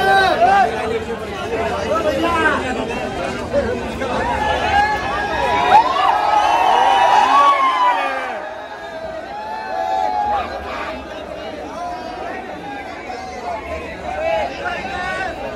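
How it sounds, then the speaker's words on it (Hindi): A dense crowd chatters and murmurs outside the Liberty cinema in Karol Bagh, Delhi, at a Pathaan screening, a steady babble with a few raised voices close by. "देखो भीड़ देखो कितनी है।"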